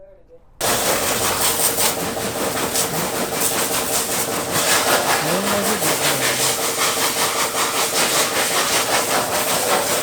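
A pressure washer blasts a Yezdi Adventure motorcycle at a roadside bike wash shop, starting abruptly and running as a loud continuous hiss, with brief voices talking underneath.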